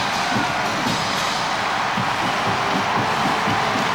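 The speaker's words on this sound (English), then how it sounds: "the roar is deafening" Around 100,000 spectators roar in the main stadium at Bukit Jalil, Kuala Lumpur, during the 1998 Commonwealth Games opening ceremony, a steady, loud wall of crowd noise that never lets up.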